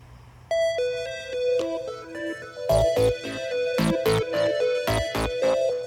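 A melodic electronic ringtone plays a rising tune, then repeats a chiming pattern with percussive beats, fairly loud and close.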